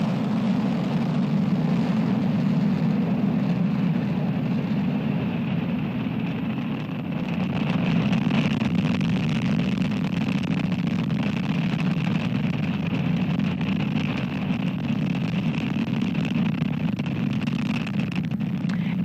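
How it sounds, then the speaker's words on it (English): A SpaceX Falcon 9 rocket's engines roar steadily after liftoff of a Starlink mission, a continuous deep rumbling drone heard from a distance, unbroken and fairly even in loudness throughout. "Engines full power. And liftoff of Starlink 5-4."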